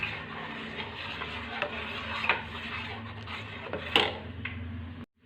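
Milk curdling with vinegar is stirred in a pot for chhana, a spoon rubbing and tapping against the sides in a steady, quiet rhythm with a few sharper knocks, ending abruptly.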